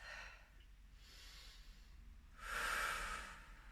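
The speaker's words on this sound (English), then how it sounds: "take a breath" A person breathes audibly while doing gentle seated chair yoga, with softer breaths early on and then a long, loud, forceful exhale near the end, close and with no talking.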